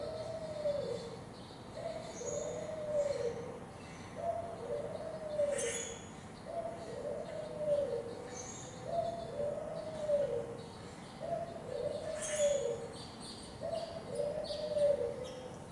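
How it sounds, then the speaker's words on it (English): African collared dove song repeats about nine times in steady rhythm, each phrase a soft rolling coo, close and clear, with brief higher bird chirps scattered in the background. "there is our African collared dove"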